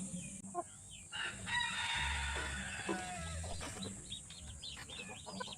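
Ducks call outdoors at a moderate distance, a few repeated quacking and clucking bursts over a low background rumble.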